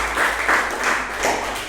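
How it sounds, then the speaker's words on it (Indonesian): A room of people, apparently a class session, gives a short burst of applause, dense clapping that swells and fades within a couple of seconds. "aplaus"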